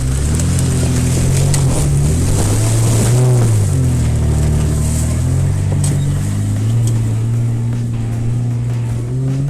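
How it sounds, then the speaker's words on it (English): A supercharged off-road vehicle grinds up a very steep climb in the Ozarks in pouring rain, its engine droning loud and steady with a rising and falling whine throughout, no voices over it. "Listen to that supercharger sing."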